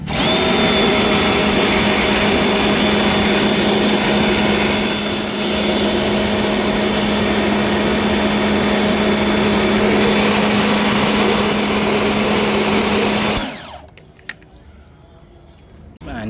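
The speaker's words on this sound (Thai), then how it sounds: "ขั้นตอนการฉีดล้างทำความสะอาด แผงหลังพวกแอร์และ ฟินคอยลหม้อน้ำครับ" Loud, steady rushing spray of a pressure washer hitting the AC condenser fins of a 2016 Suzuki Swift, running continuously for a long stretch before cutting off to near silence.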